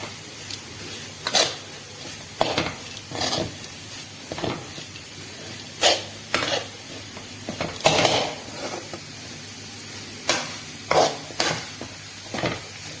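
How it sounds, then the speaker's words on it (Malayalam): Cabbage thoran with chopped ginger, being stirred in a pan over low flame, with a faint sizzle beneath repeated scraping strokes of a spoon against the pan at irregular intervals, close by. "നല്ല രീതിയിൽ ഇളക്കിക്കൊണ്ടിരിക്കുക, അല്ലെങ്കിൽ ഇത് അടുക്കി പിടിക്കാൻ സാധ്യതയുണ്ട്."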